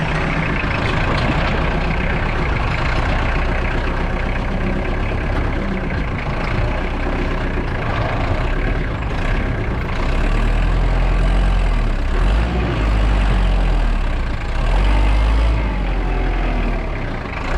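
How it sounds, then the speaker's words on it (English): A Cat 275 skid steer loader's diesel engine runs steadily nearby, a low rumbling drone with occasional heavier surges, and no voices. "this little tractor comes in so handy"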